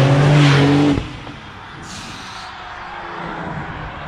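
A BMW tuned by Shiftech roars past up close, loud engine noise with rising tones during the first second, then cuts off sharply and leaves a quieter fading rumble.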